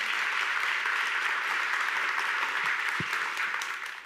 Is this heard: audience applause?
yes